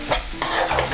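Chopped garlic and chili sizzle and fry in hot oil on a gas flame for a masoor dal tarka, with steady close spitting crackle and a couple of brief stirring scrapes.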